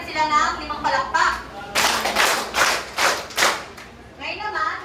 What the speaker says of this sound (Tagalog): Bigyan natin sila ng 5 palakpak.